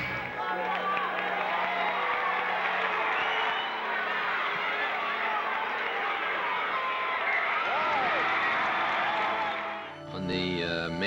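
Dense crowd cheering and shouting along an avenue as President and Mrs. Reagan ride past standing through the open roof of their car, a loud sustained roar with whoops that drops off near the end.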